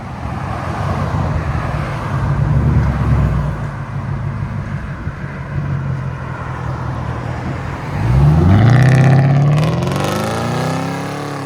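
A 2012 Hyundai Genesis sedan's 4.6-liter V8 with Dynomax bullet mufflers and a muffler delete rumbles loudly at idle, then revs hard near the end in a sharp rising roar that settles back down.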